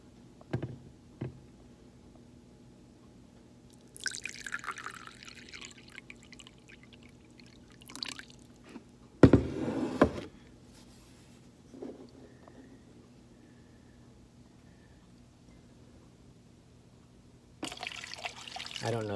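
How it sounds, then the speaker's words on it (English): Filtered water is poured for making coffee, with a few short trickling and splashing bursts separated by quiet pauses and occasional clinks, close by. "Putting filtered water in there."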